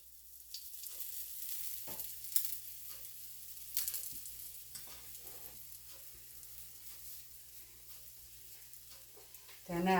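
Gram flour pancake frying in oil in a pan, a steady broadband sizzle running under the whole stretch with occasional utensil taps and scrapes, a brief louder burst at the very end.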